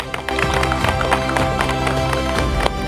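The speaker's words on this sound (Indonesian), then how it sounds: "Tepuk tangan dong" A gathered group of B-Log truck drivers at a fuel-shortage briefing in Balaraja breaks into steady, loud applause, dense overlapping claps filling the whole stretch with crowd noise and a few voices mixed in.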